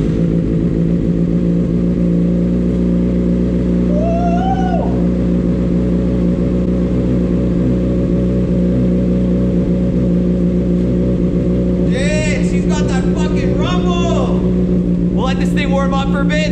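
A Honda CBR600 motorcycle engine idles steadily through an Invidia N1 Subaru exhaust tip, loud and close with a constant droning rumble, while voices talk over it at times.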